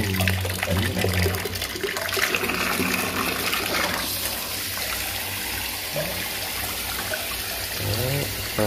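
Water sprays hard from a pressure-boosting garden hose nozzle with three spray modes, a steady loud rushing gush that runs throughout without pause.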